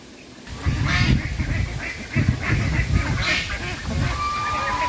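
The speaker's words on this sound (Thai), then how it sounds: "ได้ยินเสียงเป็ดกาบกาบกาบ" A flock of ducks quacking and honking continuously close by, calls overlapping in a noisy outdoor setting.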